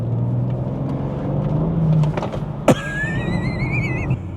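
A powerful rear-wheel-drive car under full throttle with traction control on, its engine surging loudly in one sustained pull, punctuated by a sharp burst partway through and a rising high-pitched whine after.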